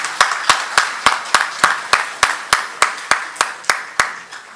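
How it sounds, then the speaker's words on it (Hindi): At a Hindi comedy poetry gathering, sharp hand claps land in a slow, even rhythm, about three per second, loud and close. "एक बार जोरदार तालियां बजनी चाहिए।"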